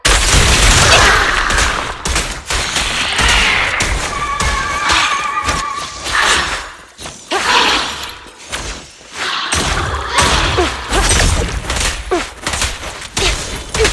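Gunfire in the video game Zenless Zone Zero, with rapid overlapping shots and thumps in a dense, loud battle mix that runs continuously for about fourteen seconds, with no speech.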